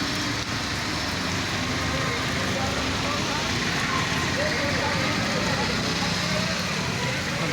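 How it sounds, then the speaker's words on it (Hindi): Heavy rain pours down continuously during a village flood, a loud, dense roar of water with wind-like noise and no pause. "बराबर बारिश हो रहा है"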